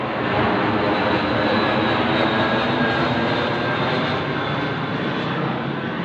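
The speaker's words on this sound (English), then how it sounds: "the plane went over my head" Fixed-wing airplane passing overhead at night, a loud steady broadband engine roar that fills the whole stretch without pause.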